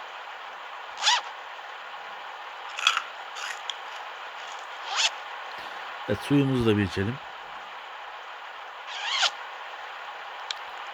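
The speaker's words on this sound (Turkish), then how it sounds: "şu çantanın fermuarı bile açılıyor" Bag zipper being opened in Truck Simulator Ultimate, a short ratcheting zip burst heard once amid quiet game ambience, with someone talking now and then around it.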